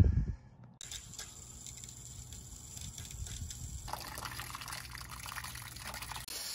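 Steady stream of water pouring and splashing into a tub to cover a pump, fairly soft, with the flow growing slightly brighter partway through.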